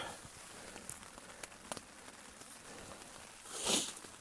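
Rain falls steadily during a bicycle camping trip on the Western C&O loop, scattered faint drops tapping and pattering with one louder splash near the end, quiet and without voices.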